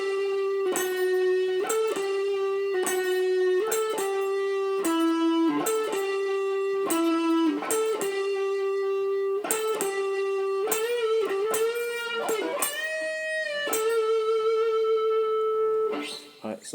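Electric guitar plays the first interlude solo of a song, a steady stream of sustained, bending lead notes ringing loud and close for about sixteen seconds before cutting off.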